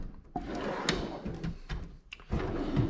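A metal drawer in a garage tool chest holding SAE wrenches slides open or shut, with a couple of sharp clunks and rattles over a busy room background.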